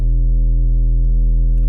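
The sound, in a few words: sub bass synth preset from Massive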